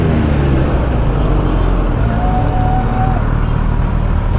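Heavy road traffic heard from a Versys 1000 SE motorcycle filtering through congestion, a dense continuous low rumble of engines close by, steady and loud without pause.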